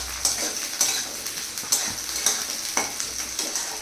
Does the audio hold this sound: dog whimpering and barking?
no